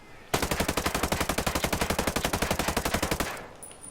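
A 416 Shorty rifle in Ghost Recon Breakpoint fires on full auto without a suppressor: one loud, close, evenly paced burst of about thirty rounds that empties the magazine in roughly three seconds and then cuts to quiet.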